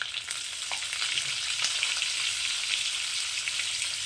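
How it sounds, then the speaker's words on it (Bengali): Eggs dropped into hot oil fry with a dense, steady crackling sizzle, close and constant, with no talking over it. "বন্ধুরা তেলটা গরম হয়ে গেছে এবার তেলের মধ্যে আমি ডিমগুলোকে দিয়ে দিচ্ছি"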